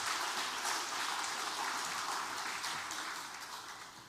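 Church congregation applauding the choir and musicians at a Sunday worship service, a dense steady patter of many hands that fills the room and slowly fades toward the end.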